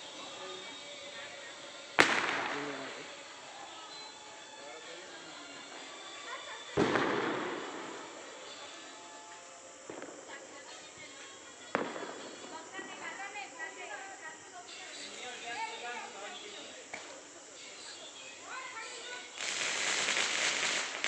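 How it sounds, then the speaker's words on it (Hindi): Diwali firecrackers burst in a series of sharp, loud bangs, each followed by crackling and hissing fizz, with a dense sparkling spray near the end; faint voices are heard in the background. "3 साल से मैं पटाखे फोड़ते आ रहा हूँ"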